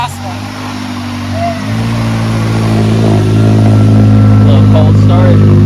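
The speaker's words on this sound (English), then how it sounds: "A little cold start. She's purring." A prerunner-built Ford Ranger pickup fires up cold and settles into a loud, steady exhaust idle close by, the engine note rising slightly and then holding even, with a person talking over it.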